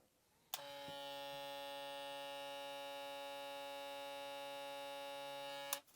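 A Caliber Disruptor ZR hair clipper switches on and runs with a steady, strong buzz and harmonic hum for about five seconds, then switches off, heard close up with no talk.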